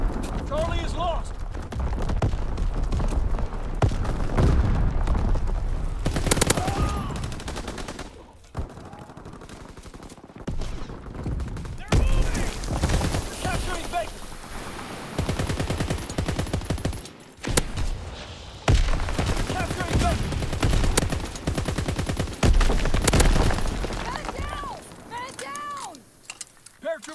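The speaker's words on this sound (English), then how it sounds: "Anti-aircraft salvo commence. Clearing the skies." Anti-aircraft gunfire in Call of Duty WWII, dense bursts of rapid shots rolling through most of the stretch with brief lulls, loud and close, under radio-style voice callouts.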